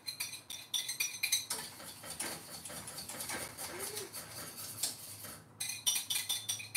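A utensil whisks egg yolks in a bowl for Salvadoran ponche, giving quick rhythmic metallic clinks against the dish that come in bursts, fairly close, with no talking.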